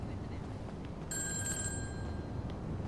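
A phone rings in the GTA V video game, a bright electronic tone starting partway through and sustaining for about a second over a steady background hiss.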